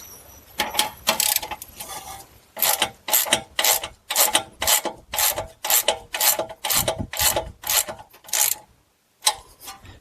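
A ratchet clicks in quick repeated bursts, rasping up close, as it tightens a new outer tie rod end nut on a 2018-2025 Buick Enclave or GMC Acadia, with a brief pause near the end.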